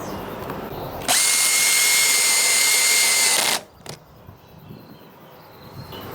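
A power drill bores a 3 mm pilot hole for a Thule Omnistor 5200 RV awning install, whining at high speed for a few seconds, then stopping abruptly; a brief click and quiet room noise follow.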